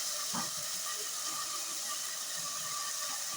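New potatoes, four of them, dropped into hot spiced oil in a pan, giving a steady broad sizzle and hiss throughout, close and continuous with a brief sharper crackle near the start.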